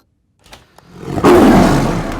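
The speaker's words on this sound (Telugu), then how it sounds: "పులి ఇంతకు లోపలికి ఎలా వచ్చిందిరా?" In a comedy action film scene, a tiger lets out a loud, close roar that swells up after a couple of soft thumps and holds to the end.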